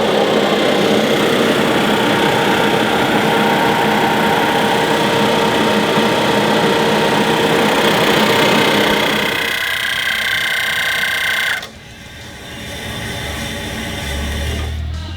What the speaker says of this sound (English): As you can hear, it's a little bit louder than some of the other trimmers